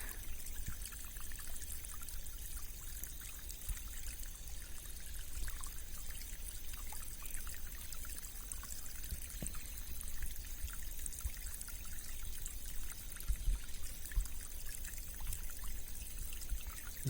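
A beautiful stream flowing in nature, its water trickling and bubbling in a steady, continuous wash that stays even and fairly soft throughout, with no voices over it.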